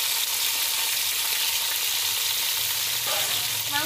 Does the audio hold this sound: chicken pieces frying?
yes